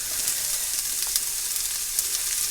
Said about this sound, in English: So I'll get them frying up.